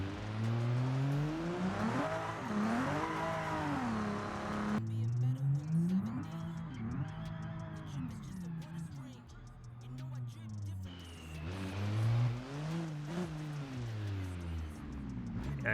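A car with cold tires driving in BeamNG Drive, engine rising and falling as it revs and accelerates through gears, with someone talking over the motor noise.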